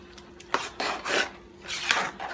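A spoon scrapes and stirs margarine into chicken and rice in a pot, making several close, gritty scraping strokes and light clanks against the metal in an uneven rhythm, with no talking.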